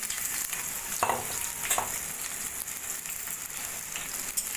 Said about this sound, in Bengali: সেই মুগ ডালটা দিয়ে দেবো তেলের মধ্যে